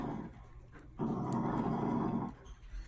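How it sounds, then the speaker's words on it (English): A dog gives a low, rumbling growl close by, rising in the middle and then fading, with no voices over it. "Dog's growling."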